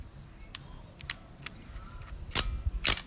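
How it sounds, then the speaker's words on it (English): Shutter of a Praktica BCX electronic film camera firing repeatedly, crisp mechanical clicks spaced irregularly, the last two louder and fuller with a short double snap, close by and otherwise quiet. "So we're gonna do the shutter test."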